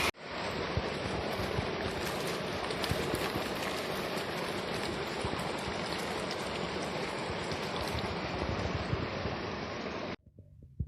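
Irrigation water runs steadily into a sugarcane field as a dense, even rushing wash, loud and continuous for about ten seconds before stopping abruptly.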